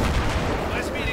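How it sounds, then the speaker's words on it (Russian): Sniper rifle fire in the video game Battlefield 3, dense booming shots and rumble filling a short burst, with a voice talking over it. "Снайпер, что ли, там палит?"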